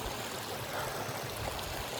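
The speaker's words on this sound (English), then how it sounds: "And we got running water." A running mountain stream at Edith Lake on the Alice-Toxaway Loop, a continuous broadband rush of flowing water, close and steady throughout with no talk.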